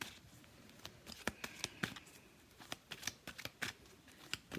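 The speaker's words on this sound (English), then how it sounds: "I just want to shuffle some more" A deck of cards is shuffled, quick irregular flicking riffles and snaps, close and fairly quiet, without talking.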